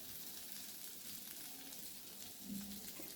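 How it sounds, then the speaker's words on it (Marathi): Onion roasting in a pan while cooking a drumstick masala curry, a steady faint sizzle with soft stirring and no talking. "आणि आता कांदा भाजून घेऊ।"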